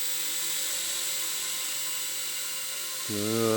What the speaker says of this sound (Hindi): आया कहाँ से ड्रोन?